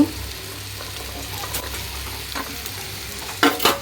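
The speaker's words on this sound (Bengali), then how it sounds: "পেঁয়াজটা একটু হালকা বাদামি হয়েছে তো আমি এখন এই যে ঢেঁড়স" Okra tipped into onions frying until light brown, a steady sizzle with stirring scrapes, and a louder burst of crackling near the end as more goes in.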